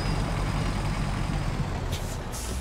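A heavy truck grinds along slowly in the SnowRunner video game, a steady low engine rumble with a brief hiss of air near the end and no talk.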